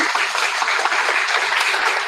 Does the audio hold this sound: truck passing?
no